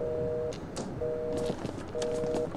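Telephone ringing in the horror game Outlast, three repeated electronic ring bursts with pauses between them, fairly clear over a steady background hum.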